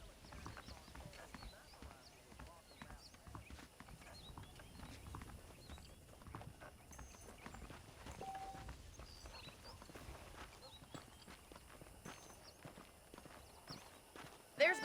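Horseback hoofbeats from Red Dead Redemption clop in a steady walking rhythm, faint and continuous. Spoken dialogue runs over them.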